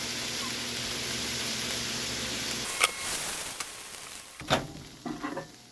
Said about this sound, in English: pour the rest of this sauce in and let it kind of sizzle in there